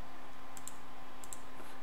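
Computer mouse clicked while running a Java image-sharpening program: two quick double-clicks, faint and close, over a steady low hum.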